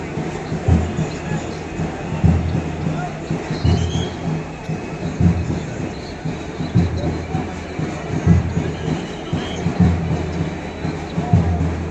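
The Surat–Bandra Intercity train rumbles and clatters steadily with rhythmic wheel thumps and faint squeals, loud and near, with crowd noise mixed in.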